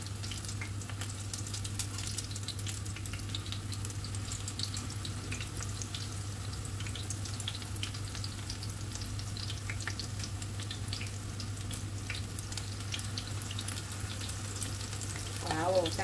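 Tempeh fries in oil in a Teflon pan, a soft continuous crackling sizzle with scattered pops and a low steady hum underneath, fairly quiet and unbroken for the whole stretch.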